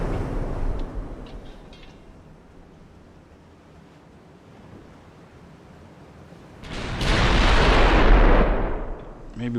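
Naval guns fire in the warship battle game Ultimate Admiral: Dreadnoughts, with a heavy booming blast rising near the end over a constant rush of sea and wind.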